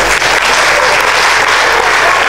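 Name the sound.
audience applause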